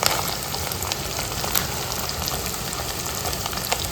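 Capsicum frying for Maggi noodles gives a steady, close sizzle and crackle that holds evenly throughout with no voices.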